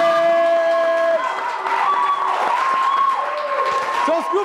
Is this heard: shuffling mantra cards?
no